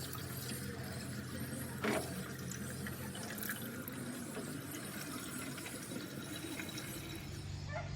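Coolant overflows from a car radiator and runs out in a steady trickling, splashing flow, with a brief louder splash partway through and no talking.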